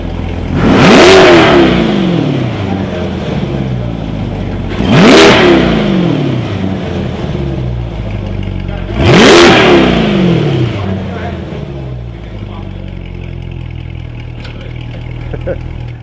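A Chevrolet Corvette C8 engine sitting at idle and blipped three times, each rev rising sharply and falling away at a steady spacing, loud and close, with a steady idle hum between the revs.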